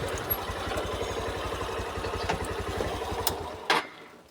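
A motorcycle idles close by on a rural mountain track, its engine beating in a quick, steady chug that ends with a short clunk and then goes quiet as the bike is parked.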